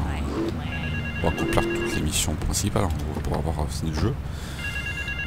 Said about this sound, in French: Donc là visiblement c'est le téléphone.